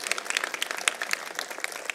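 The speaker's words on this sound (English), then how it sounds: "give a round of applause for the people in the audience who are here to support you" Audience at a master's and PhD convocation ceremony clapping in a moderately loud, busy burst of individual claps, steady throughout with no voices over it.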